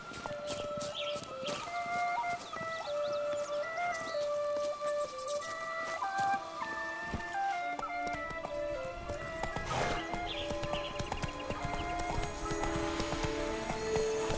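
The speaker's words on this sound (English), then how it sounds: "Whoa there, Roach" Horse hooves in The Witcher 3 video game, a rapid clip-clop galloping rhythm mixed with neighing. It plays alongside a game music score with layered effects and stays steady throughout.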